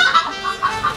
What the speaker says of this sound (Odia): ଏ ଅଷ୍ଟ୍ରେଲିଆ କୁକୁଡ଼ା